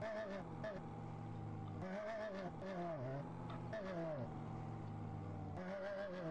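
Motorbike engine in GTA ridden slowly into a favela, a steady low drone with pitch bends as the throttle shifts, running continuously beneath a voice.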